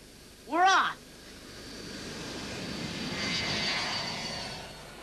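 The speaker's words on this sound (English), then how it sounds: "Around the world, on our own jet plane." A jet airliner on a world tour passes with a steady broadband roar that swells toward the end, after a brief loud tonal chime or announcement tone at the start.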